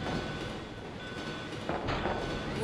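A moving train in the video game Resident Evil 2, a steady rolling rumble and rattle at moderate level with a brief brighter clatter near the end, no talk.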